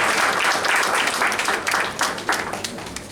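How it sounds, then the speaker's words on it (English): Audience at a university white coat ceremony applauds loudly, a close, dense burst of many hands clapping that thins toward the end. "Another round of applause for her"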